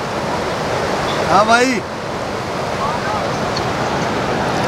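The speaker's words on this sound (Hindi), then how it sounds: "ये सात का नदी चल रही है, पानी देखो" A river flowing near Kasol, steady broadband rushing water close by and fairly loud, with someone speaking briefly over it partway through.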